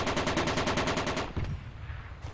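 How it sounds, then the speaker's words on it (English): Automatic gunfire in Project Reality, a loud rapid burst of evenly spaced shots that stops partway through, leaving a fading echo and a quieter background. "That they're shooting us across the Y."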